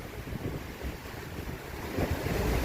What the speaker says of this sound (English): I do find it very, very relaxing just walking past the waterfalls at Mirage.